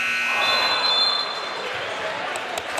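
A quarter-end buzzer sounds at a varsity high school basketball game in a gym, a long tonal blare over crowd noise that fades out after about a second and a half.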